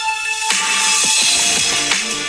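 A song plays loudly through the small built-in speakers of an iPhone X held close to the mic, with a bright, thin, continuous sound and soft percussive hits.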